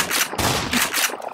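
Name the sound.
shotgun fire in video game Black Mesa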